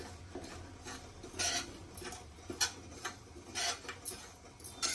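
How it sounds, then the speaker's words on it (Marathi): Semolina (rava) roasts in a pan over medium heat while a spoon stirs it, giving faint scraping and soft irregular clinks against the metal, quiet and close, with no talk. "आता रवा भाजून घेऊया पहिले आपण"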